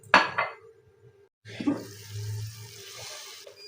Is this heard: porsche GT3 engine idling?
no